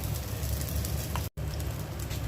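A potato paratha rests on a hot tava, sizzling steadily and fairly loud, with a brief break in the middle.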